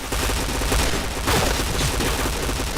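Rapid gunfire in a video game, a dense burst of overlapping shots and booms running nearly the full couple of seconds, loud and continuous with no pauses.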